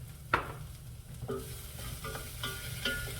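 Bacon and garlic fry in a hot pan while being stirred: a steady, close sizzle with a few sharp utensil scrapes and clicks against the pan, and no talking.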